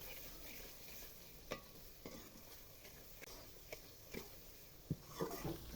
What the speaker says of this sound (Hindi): अच्छी तरह से मिसालों को भूनेंगे।